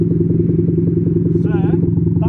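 Idling BMW exhaust in its standard factory setup, a steady low rumble with a regular pulsing throb, close and loud, with a brief voice-like warble partway through.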